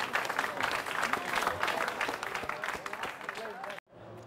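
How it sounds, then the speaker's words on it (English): Audience applause fills a poker tournament room after a player busts out in fifth place at the final table of a high rollers event, steady dense clapping with voices mixed in, cutting off abruptly near the end. "Let's give him a round of applause, please."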